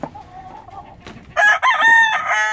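An Asil rooster crows loudly and close by after a few softer hen clucks at the start.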